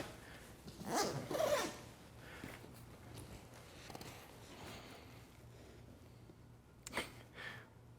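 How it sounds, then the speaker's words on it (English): A travel backpack's rear zipper is pulled open in two quick bursts close by, followed by quieter rustling, then another short zip near the end. "the primary way that you get into the bag is through the back zipper"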